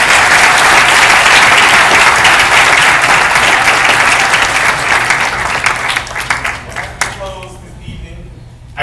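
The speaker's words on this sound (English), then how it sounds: "Let's give him another round of applause." An audience at a university distinguished speaker event gives a loud round of applause that holds steady, then thins into scattered claps and fades out near the end as a voice begins to speak.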